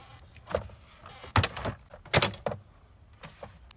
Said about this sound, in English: Now we can start popping out the door panel.